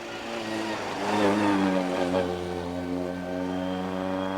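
A vintage Riley Brooklands sports car with a little 1100cc Riley engine holds a steady, buzzing drone that swells briefly in revs, then settles, heard from a moderate distance at a vintage sports-car club event at Prescott.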